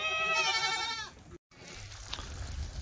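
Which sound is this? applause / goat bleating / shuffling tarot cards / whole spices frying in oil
goat bleating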